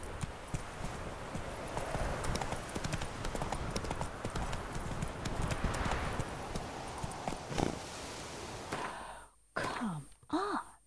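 Roach the horse's hooves clop in a steady trot in The Witcher 3, a busy rhythmic patter with soft breathing and game ambience, ending in a few sighs and vocal sounds.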